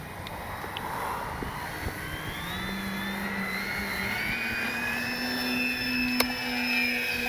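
An E-flite D-18 twin-engine RC model warbird with differential thrust takes off, its electric motors whining steadily and rising in pitch as it climbs away, over a constant outdoor background.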